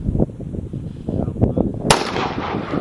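A 6.5 Grendel rifle with an 18-inch barrel and a muzzle brake fires a single sharp, loud shot outdoors, preceded by low rumbling and muffled background noise, with a decaying tail after the blast.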